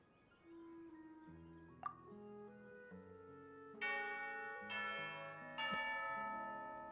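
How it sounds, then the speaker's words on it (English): Bell chimes in Genshin Impact ring out in a slow melodic sequence of clear tones, each struck note sustaining and overlapping the next, with brighter accented strikes in the second half; quiet and without talk. "We actually heard the bell."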